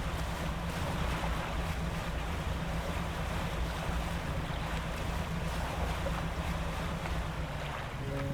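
In the fishing video game Dredge, a boat engine drones steadily beneath washing waves and wind, a continuous dense rumble with no pauses or speech.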